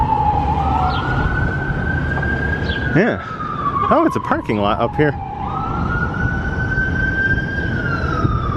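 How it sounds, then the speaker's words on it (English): A police siren wails as it passes down a street in the distance, its rising and falling tone sweeping steadily across the whole stretch while someone talks briefly over it outdoors. "As a police car screams down the street in the distance"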